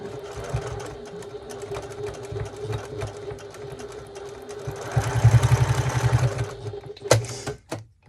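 Sewing machine back-stitching along the middle of a reproduction 1941 gasmask bag, close and loud, with a steady rhythmic chatter that speeds up near the end before a few sharp clicks.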